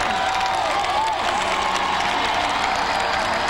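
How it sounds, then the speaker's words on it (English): A large crowd at a downtown Kansas City Royals World Series parade cheers and applauds loudly for Wade Davis, a dense continuous roar with shouts and whistles. "The crowd going nuts for Wade."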